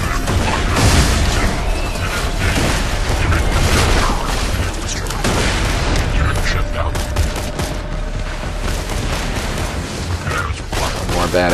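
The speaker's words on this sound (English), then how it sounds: "So, throw a grenade, make a big mess." A grenade blast goes off amid dense gunfire and booms in the Borderlands video game, loud and continuous, with someone talking over the chaotic action.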